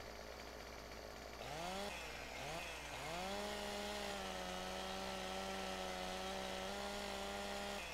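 A chainsaw in Farming Simulator 2015 cuts into a tree, revving up in rising and falling pitch sweeps before settling into a steady, loud, sustained drone close by, with no talking.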